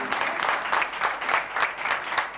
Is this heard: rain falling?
no